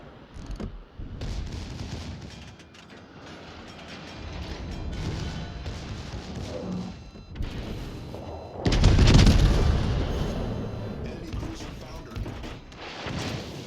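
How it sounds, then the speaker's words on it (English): Battleship secondary guns firing in World of Warships Legends, a steady stream of booming shots and mechanical clatter building to a loud heavy blast near the middle, with a voice talking over it. "There we go, the secondaries are going again."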